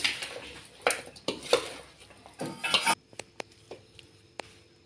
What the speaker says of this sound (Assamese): তেলখিনি দি ভালদৰে লৰাই দিম